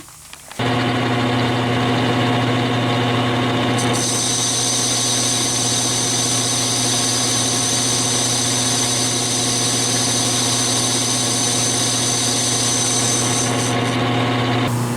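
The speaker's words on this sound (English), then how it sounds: "Just turned it down flat, cut it off straight." A metal lathe turns a cast iron part for a steam engine governor, giving a loud, steady mechanical drone with a sustained tonal whine that runs unbroken for the whole stretch.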